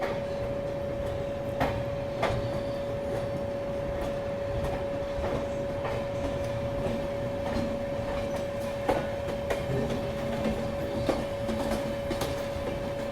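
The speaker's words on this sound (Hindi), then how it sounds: "यहाँ पे गोल्डन टेम्पल मेल का भी अराइवल हो रहा है अंबाला कैंट रेलवे स्टेशन पे" Passenger train rolling into Ambala Cantt railway station at night, the Golden Temple Mail, with steady rumble, a sustained tonal hum and repeated clicks and clacks of wheels over rail joints, continuous and fairly close.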